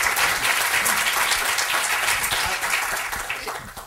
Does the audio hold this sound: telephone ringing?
no